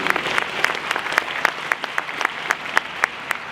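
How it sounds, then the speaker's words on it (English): An audience at a space conference applauds, with crisp, evenly timed claps standing out above a softer bed of scattered clapping throughout. "you can applaud, I think that's worthy."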